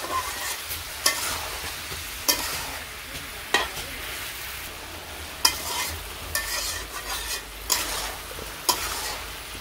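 Vegetables with jaggery being stirred in a pan in a village kitchen, a steady scraping and sizzling with regular spoon knocks about every second, close and alone without talk.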